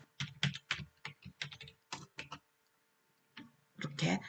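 Someone types a chat message on a computer keyboard, rapid close key clicks in uneven bursts with a brief pause, then a final flurry of keystrokes.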